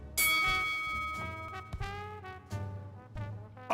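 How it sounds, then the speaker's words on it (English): A bell dinged in the Blacksad: Under the Skin video game, a few bright ringing strikes with long resonant tails, struck in quick succession and fading between hits. "Can I ding the bell?"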